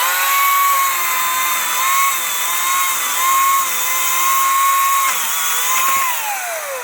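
An 80-volt battery-powered chainsaw cuts wood at a campsite, its steady high electric whine running loud and close for the whole stretch with slight pitch dips as the chain bites, then falling away near the end.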